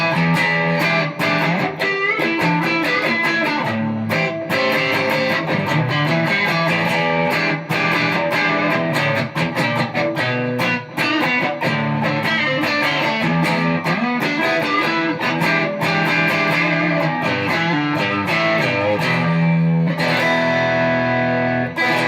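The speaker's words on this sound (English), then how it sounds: "Let's try to hear some of the more vintage type sounds you can get from Darkmatter Distortion using an old school Strat" An old-school Fender Stratocaster with single-coil pickups runs through a TC Electronic Darkmatter Distortion pedal set for vintage tones, giving a dense, continuous distorted riff of strummed chords and single notes at steady volume with no talking.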